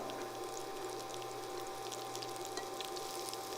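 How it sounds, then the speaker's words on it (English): Food sizzles in a hot pan during a vegan cooking class, giving a soft, steady crackling hiss that stays faint and even throughout, with no talking. "Hear it sizzling"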